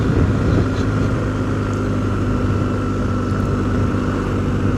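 BMW R1250GS motorcycle riding along country lanes near Matlock, a constant loud engine drone mixed with rushing wind noise, steady throughout with no talk.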